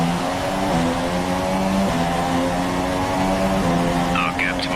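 Formula 1 race cars at the Mexican Grand Prix, heading into the stadium section: a loud, steady engine drone with shifting pitch steps as cars pass and change gear, continuous throughout, with commentary over it.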